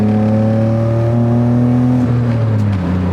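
A BMW 320i E30 engine swapped from a 325i E36 revs steadily to 5000 rpm in third gear, holding a loud sustained drone with smooth shifts in tone, close and continuous.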